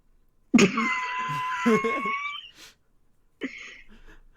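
A single harsh cough from a sick person bursts out, followed by a shorter second cough after a brief pause, close and loud with no talking.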